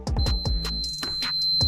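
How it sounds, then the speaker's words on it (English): Repeated short electronic beeps ring out from a continuity tester checking a normally open air fryer switch, sounding close and clear over a low hum. "It's beeping."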